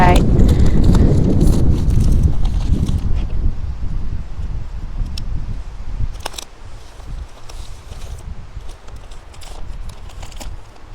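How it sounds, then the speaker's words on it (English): Strong wind buffets the microphone outdoors, with a heavy low rumble that eases after the first few seconds, rustling around it and someone talking over it. "Oh gosh, this wind is so crazy."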